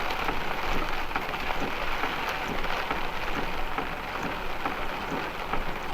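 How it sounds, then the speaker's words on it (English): Heavy rain drums steadily on the roof and body of a parked motorhome, a dense, loud, continuous hiss with scattered heavier drops, no voices over it. "Looks like the rain is starting to slack off a little bit."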